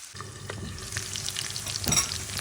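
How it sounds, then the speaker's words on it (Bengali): Onions browning in a pan with ginger and garlic sizzle quietly while a spoon stirs and scrapes through them, giving a soft continuous fry with irregular clinks and scrapes. "আমি আবারও একটু নাড়াচাড়া করে দিচ্ছি"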